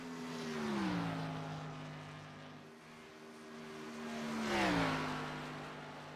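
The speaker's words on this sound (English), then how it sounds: "Lee Campbell out on track in the 14 machine" A stock car in the iRacing sim racing game, the number 14 machine, runs laps at Auto Club with a steady engine drone that swells as cars pass by twice, pitch dropping with each fly-by, no talk.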